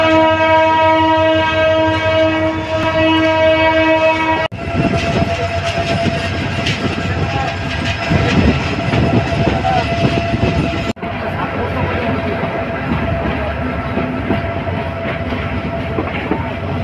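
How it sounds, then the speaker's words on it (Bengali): A local train running from Dhaka to Gazipur sounds a loud, sustained horn for several seconds, then the heavy rumble and clatter of the moving train carries on close by with no voices. "লোকাল ট্রেনটি ধীরে ধীরে তার গতির রূপ পরিবর্তন করছে"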